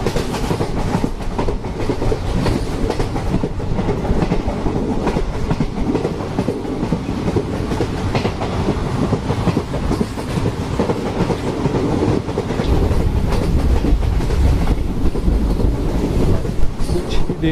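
The Ranikhet Express runs along the track between Jaipur and Jaisalmer, heard from on board as a loud, continuous rumble with rhythmic clickety-clack and wind noise that swells slightly toward the end.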